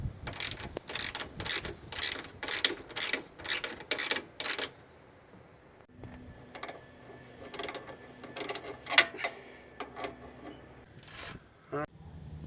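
A hand ratchet tightens sway bar bushing bolts on a Jeep XJ, steady rhythmic clicking strokes close by, pausing midway before a few more slower ratchet runs, with a voice speaking briefly.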